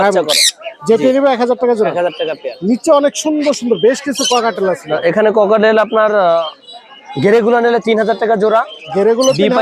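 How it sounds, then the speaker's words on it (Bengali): Diamond doves and other caged birds call at a bustling bird market in Meradia, Bangladesh, with busy squawks and coos overlapping loud nearby talk from people throughout. "এই জায়গায় ভাই ডায়মন্ড অফ গুগু আছে"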